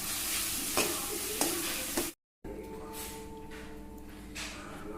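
A spoon scrapes and stirs through onions and tomatoes frying in a pan, with a steady sizzle underneath and a brief cut to silence midway.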